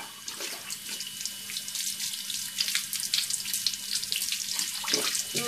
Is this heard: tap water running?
yes